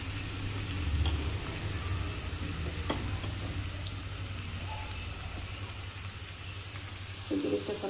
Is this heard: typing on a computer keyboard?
no